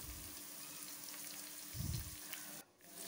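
Chicken fries in a pan with a faint, steady sizzle, joined by a short low thump midway and a brief dip near the end, quiet and with no voices.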